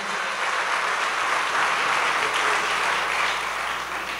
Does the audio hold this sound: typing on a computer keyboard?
no